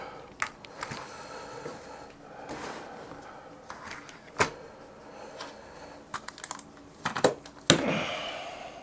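Someone types on a computer keyboard while setting up a PC, making sparse, faint clicks and taps in uneven clusters with a few louder knocks near the end.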